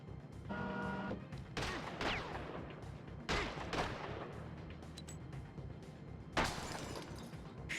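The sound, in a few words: pistol gunshot in a PS2 video game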